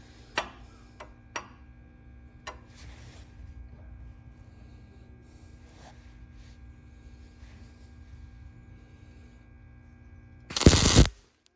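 A single tack weld on parts for a 1969 Ford F100 truck fires as one loud, short crackling burst near the end. Before it come a low mains hum and a few faint ticks in an otherwise quiet shop.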